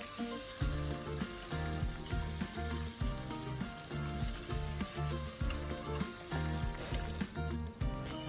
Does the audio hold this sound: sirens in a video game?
no